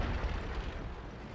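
A tank cannon fires in a video game, a deep, booming blast that rumbles low and fades over about a second, fairly quiet overall.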